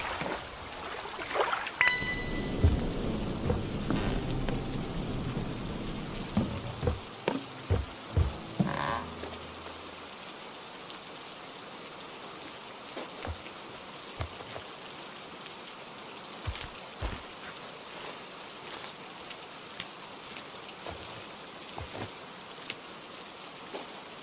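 Steady rain patters continuously with scattered drips and taps in a horror video game; a brief louder rush early on fades, leaving soft, even rainfall with occasional frog-like croaks.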